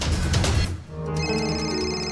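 A telephone starts ringing indoors with a steady electronic ringtone of sustained tonal pulses that rise clearly after a brief dip in louder background noise, close and alone.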